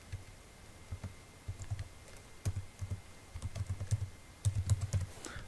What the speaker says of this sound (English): I'm going to type in the name of my database.